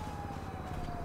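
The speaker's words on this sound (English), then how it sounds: "I hear sirens" A police siren wails in the game GTA, a faint steady electronic tone that holds for about a second and sounds muffled and distant.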